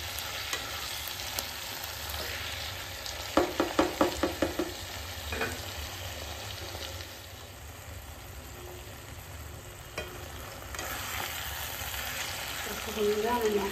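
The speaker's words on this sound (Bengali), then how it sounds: "গোলমরিচ গুঁড়োটা দেওয়ার পরে খুব সুন্দর করে একটা নেড়ে করে নিই।" Chilli chicken dusted with black pepper powder is stirred in a pan, a steady frying sizzle running throughout with a quick burst of spatula scrapes and knocks near the start and a few scattered clanks later.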